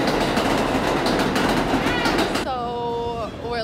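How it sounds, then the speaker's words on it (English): A New York subway train rumbles and clatters loudly at close range, then its wheels and brakes squeal in high, drawn-out tones as it slows into the station. "The fucking train's gonna come, that's cool."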